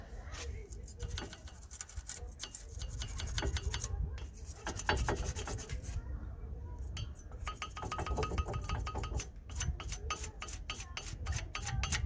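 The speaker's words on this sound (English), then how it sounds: "We're using a wire brush" A wire brush scrubs dust and debris off the front brake hub of a Nissan Micra K13, making close, harsh rasping strokes in a fast, continuous back-and-forth rhythm with occasional metallic clinks.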